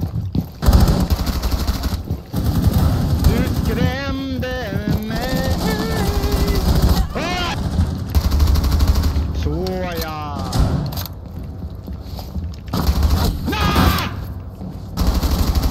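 Rapid video game gunfire crackles loudly and almost continuously, with heavy booming thuds, while a voice talks over much of it and short breaks in the shooting come and go.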